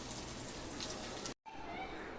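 Vadi sizzling in oil on a flat tava, a steady close frying hiss that cuts off briefly and then resumes, with a faint voice nearby.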